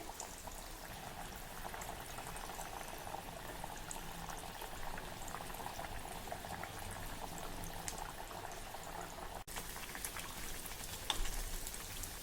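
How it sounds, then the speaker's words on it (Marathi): Red pumpkin vada deep-frying in oil over a medium flame, a traditional Vidarbha monsoon snack: a steady, even, fairly quiet sizzle with fine crackling runs throughout, with no talking. "हा वडा जसा तळला जातो आहे तसा तो हळूहळू वरती येतोय"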